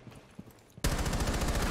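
Quiet rustling gives way to a sudden burst of rapid gunfire in Rainbow Six Siege, a loud sustained volley of repeated shots that keeps going to the end.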